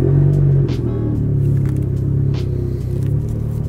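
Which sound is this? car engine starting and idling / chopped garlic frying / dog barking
car engine starting and idling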